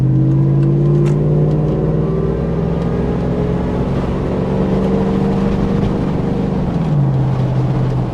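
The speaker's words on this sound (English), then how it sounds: "That supercharger whine, though. And she was getting it, man. She was moving. The exhaust sounds nice." Supercharged Hummer H2 truck pulling hard, its engine and exhaust droning loud and close with rising pitch and supercharger whine, then dropping in pitch as it shifts near the end.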